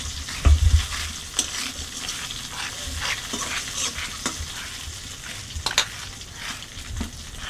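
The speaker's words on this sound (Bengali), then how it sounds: "মাছটা ভাজা হয়ে গেছে" Tengra fish frying in a pan with a steady sizzle, broken by occasional scraping stirs and clicks of a spatula, fairly close and without talk.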